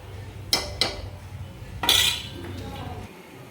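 A spoon stirs potato curry in a metal pot, giving a few sharp metallic clinks and knocks against the rim. Quiet scraping fills the pauses between them.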